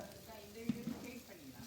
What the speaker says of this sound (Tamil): அடி பிடிக்காமல் வதக்கிட்டே இருங்க